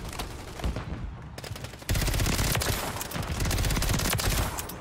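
Dense, sustained automatic gunfire rattles loudly and continuously in Call of Duty: Modern Warfare 3 multiplayer, intensifying partway through with overlapping volleys and no talk over it.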